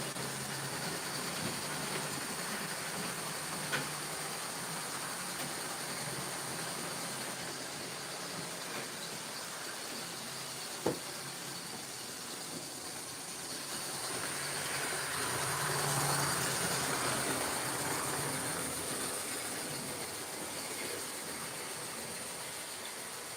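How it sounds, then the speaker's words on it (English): An HO scale model passenger train runs along its track, a soft steady rolling hiss with a couple of faint clicks and a slight swell midway, fairly quiet and with no voices. "I'll put the passenger train in the siding."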